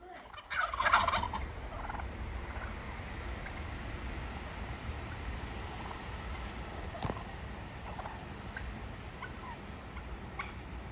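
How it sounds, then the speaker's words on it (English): A turkey gobbles outdoors at Peaceful Bay, Montana; a faint, distant burst of rapid gobbling comes early, followed by quiet, low wind-like background rumble. "Gobble, gobble, gobble. Gobble, gobble, gobble."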